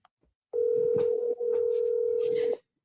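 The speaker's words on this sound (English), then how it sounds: "At the tone, please record your message." A voicemail recording tone, a steady single-pitched beep lasting about two seconds with a brief dip partway through, clear and close with faint background noise.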